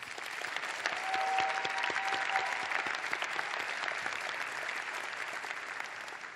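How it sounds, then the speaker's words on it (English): Sustained audience applause at a law school precommencement ceremony, dense, even clapping from a large crowd holding at a steady level throughout. "Another round of applause for Professor Self."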